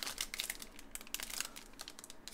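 Quiet, rapid crinkling of a hockey card pack's plastic wrapper as fingers work at opening it, irregular crackles close to the listener, no talk.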